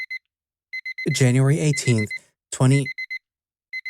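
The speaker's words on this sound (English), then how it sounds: "The clock beeps incessantly." An alarm clock beeps in quick repeated clusters, starting, pausing and resuming, while a nearby voice talks over the middle stretch.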